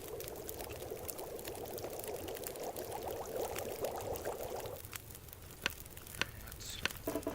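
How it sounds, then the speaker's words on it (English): In The Long Dark, snow melting over a campfire gives a steady watery bubbling and pouring hiss for about five seconds, then thins to a quiet crackle with a few sharp clicks near the end, faint overall. "Let's melt the snow."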